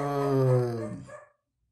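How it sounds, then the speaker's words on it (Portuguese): A dog gives a single drawn-out, tonal bark or howl close by, about a second long, which tails off into silence with no voices. "Cachorro latindo, como agora"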